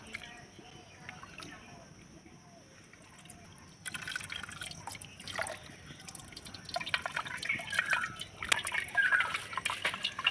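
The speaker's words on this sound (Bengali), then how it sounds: "এই ছাঁকুনির মধ্যে দিয়ে আমি দুধটাকে সম্পূর্ণ ছেঁকে নেব।" Milk is poured and strained through a sieve, giving a soft trickle and drips that grow louder and busier toward the end, with faint background noise.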